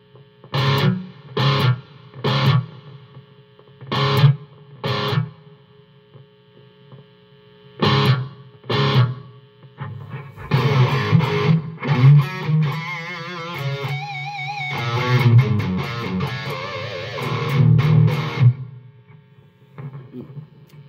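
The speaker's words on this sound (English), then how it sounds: "But I do want to hear the different types of reverb" An electric guitar through a Blackstar Silverline amp head with reverb plays spaced single notes, then a busier stretch of distorted, effected chords and lines with a hum underneath.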